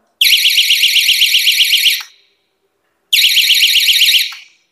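A loud, shrill electronic magnetic door alarm for a home door or window warbles rapidly for about two seconds, stops, then blares again in a second burst.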